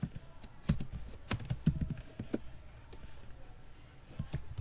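Someone types code on a computer keyboard, a handful of sharp, irregular keystrokes close by, clustered in quick bursts with pauses between, over a quiet room.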